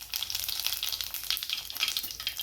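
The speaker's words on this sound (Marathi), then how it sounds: "इकडे घालायचं आहे आपल्याला हे जिरं" Cumin seeds sizzle and crackle in hot oil in a kadhai, with cinnamon already in the pan. A steady, bright frying hiss with small pops runs close and fairly loud throughout, with no voices.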